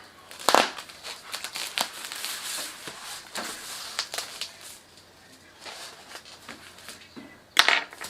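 Adhesive-backed tape being handled for insulating an ultrasonic cleaner, giving soft continuous crinkling and crackling close by, with sharper crackles at the start and near the end.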